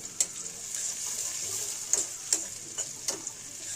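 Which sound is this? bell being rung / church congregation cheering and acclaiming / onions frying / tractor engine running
onions frying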